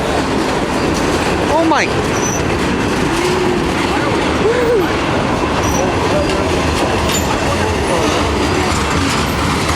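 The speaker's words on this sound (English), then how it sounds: "Norfolk Southern boxcars. Take a look at that." A Norfolk Southern mixed freight train rolls past with loud, continuous rumbling and rhythmic clickety-clack of boxcar wheels, a few faint squeals rising above, while a voice speaks briefly over it.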